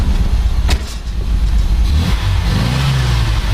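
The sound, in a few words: MGB engine running after carburetor rebuild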